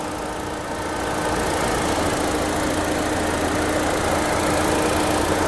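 A 1.2-litre petrol engine of a 2017 Ford Aspire Titanium idles with a continuous low rumble and mechanical hum, holding an even level throughout with no voices.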